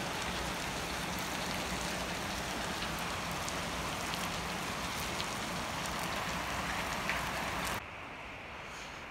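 Steady rain falls on a farm during harvest work, a dense continuous patter that holds evenly and then drops abruptly to a quieter hiss near the end.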